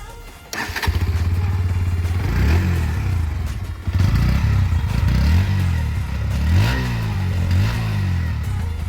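A Bajaj Pulsar NS125 facelift motorcycle with an underbelly exhaust starts up close by, idles with a throbbing beat, and is revved several times, each rev rising and falling in pitch.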